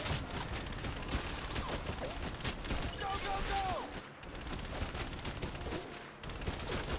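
Turret gunfire from the video game Enslaved: Odyssey to the West crackles in dense, continuous bursts amid a busy game soundscape, loud and sustained with brief lulls, mixed with mechanical clatter.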